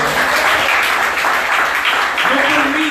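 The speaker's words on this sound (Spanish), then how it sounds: "Denle un aplauso al Señor." Church congregation applauding during a sermon, loud sustained clapping from many people filling the space, with a voice or tone rising underneath near the end.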